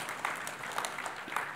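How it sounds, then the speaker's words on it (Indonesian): A church congregation claps for its Golden Agers, a short burst of scattered, soft applause heard from a distance. "Tepuk tangan buat Golden Agers."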